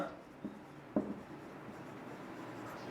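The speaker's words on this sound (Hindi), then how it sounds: "हाँ यहां पे लिखता हूं" Faint scratchy strokes of writing on a board while a diagram is drawn during a physics lecture, with a few short marks and a steady low room hiss.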